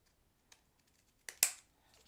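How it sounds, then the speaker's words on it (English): Scissors snip through a piece of cardstock scrap in a couple of quick, close, crisp cuts, with a faint tap before them and quiet otherwise. "now we're simply going to cut this off."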